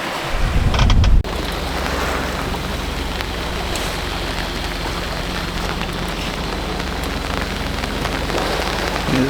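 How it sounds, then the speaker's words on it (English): Steady wind and rain on a sailboat at sea under grey squally skies, a dense even wash of noise with a louder buffeting gust in the first second. "Here's the rain."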